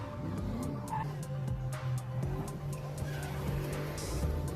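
A car skids with tires squealing, a sustained whine and rumble of a motor vehicle heard at moderate distance over a steady background of noise, without talk.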